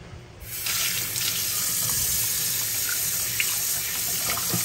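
Dirty mushrooms are rinsed under a kitchen faucet, giving a steady, close, loud rush of running tap water that begins abruptly and continues unbroken, with occasional small splashes.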